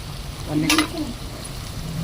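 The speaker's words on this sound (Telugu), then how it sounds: "ఎప్పుడైనా సరే ముక్కలు కరెక్ట్గా గోల్డెన్ కలర్లో వచ్చేంత వరకు అవి ఉడకనివ్వాలి." Chicken pieces for chicken pickle frying in oil until golden, a steady close sizzle running throughout, with a brief voice sounding over it midway.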